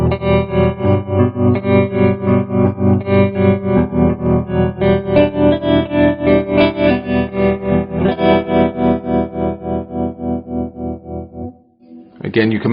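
A Marshall JMD:1 guitar amp with its tremolo effect pulses a sustained, distorted electric guitar chord in a fast, steady throb, loud and upfront, before briefly dipping near the end.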